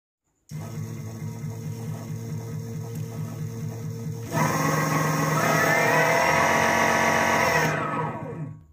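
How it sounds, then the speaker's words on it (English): A 48-volt, 750-watt electric bike motor runs steadily in the forward direction with a tonal mechanical whine, growing louder and higher partway through before winding down at the end; no one speaks. "Now motor is working in forward direction."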